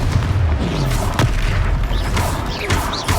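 A Confringo fire spell detonates during a Hogwarts Legacy fight, a loud sustained booming blast with rumbling low energy and scattered crackling bursts.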